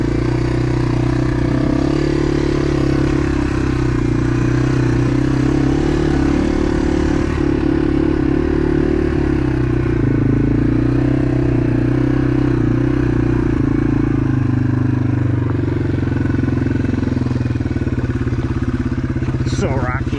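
A Yamaha TW200 motorcycle engine chugs low and steady while riding slowly over a rocky trail, loud and close with wind buffeting and occasional clatter, under someone talking.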